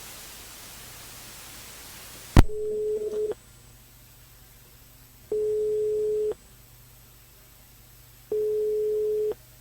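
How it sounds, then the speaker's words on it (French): A telephone busy or ringback tone pulses three times in steady, evenly spaced beeps after a sharp click, heard on a live broadcast call to a phone-in contest winner, with no talk. "Julie, décroche le téléphone"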